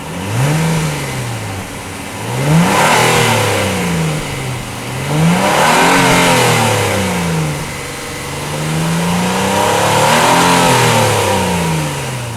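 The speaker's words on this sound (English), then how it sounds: "although the dual exhaust was hidden out of sight, of course I still had to throw in some revs" A 2016 Acura TLX V6 revving through dual exhaust, several loud rising and falling rev cycles close up, settling back toward idle between each blip.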